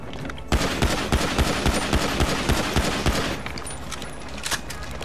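Rapid automatic gunfire in GTA V Online rattles in a fast, even burst of shots, loud and close, then trails off into lingering noise.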